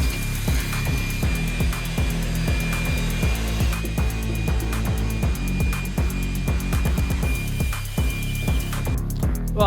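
A power tool boring holes in a piece of factory trim from a 1984 Pontiac wagon, a loud steady whining drone with rapid repeated grinding pulses, close up, and no speech.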